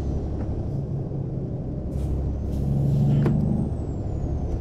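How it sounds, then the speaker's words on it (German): A truck in American Truck Simulator squeaks oddly, a thin high whine drifting over a steady low engine rumble, with brief hissy bursts partway through. "Also irgendwie quietscht mein LKW ganz merkwürdig."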